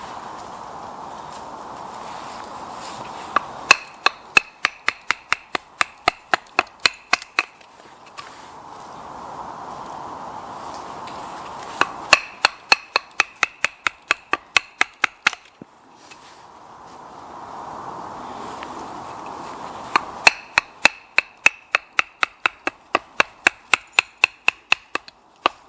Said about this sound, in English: So we've got the handle profile all chipped away now.